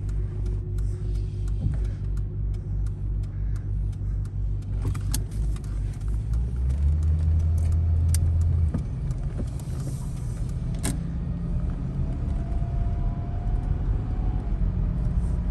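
A car pulls away from a stop and drives down a street, its engine a steady low rumble that climbs in pitch and drops back after a gear shift, heard from inside the cabin and continuous throughout.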